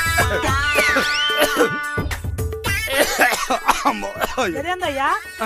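Repeated harsh coughing and throat clearing from a person who has just sniffed snuff, several bursts in quick succession mixed with vocal sounds and talk, close and loud.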